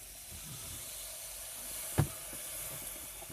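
Quiet, steady sizzle and hiss of an unseasoned steak cooking on a grill with the cover closed, interrupted by a single sharp click near the middle.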